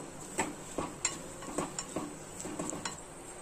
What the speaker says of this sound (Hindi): अभी इसको अच्छी तरीके से मिक्स करते हुए मेल्ट कर लेना है।